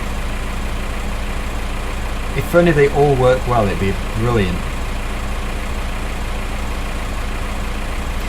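A tractor engine in Farming Simulator 2015 idles steadily in a low, continuous drone throughout, while someone talks over it for a couple of seconds.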